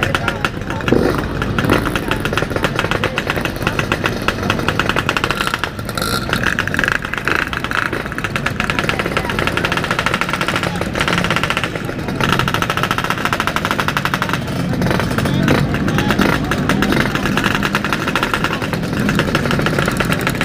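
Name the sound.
Yamaha RX King 135cc motorcycle riding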